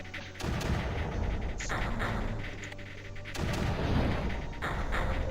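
Guns firing in the strategy video game Creeper World: a dense, continuous barrage of muffled booms and thumps layered with rapid shots, steady and moderately loud with no talking.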